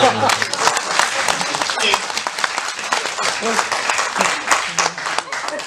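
Audience applause at a Hindi political comedy or satire stage show, a dense wash of clapping filling the whole stretch with a voice talking over it.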